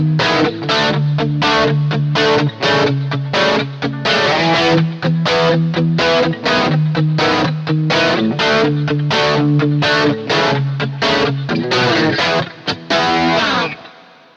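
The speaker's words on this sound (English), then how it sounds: "adding in the chorus just to hear how that sounds" Electric guitar through the chorus effect of a Boss GT-1000CORE, a shimmering, driven riff of rapid picked chords played steadily and loudly for about fourteen seconds before stopping.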